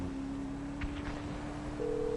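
Phone ringing out as a call is placed to Lester in GTA Online: a steady electronic tone held throughout, stepping to a higher pitch near the end, with a few faint clicks underneath.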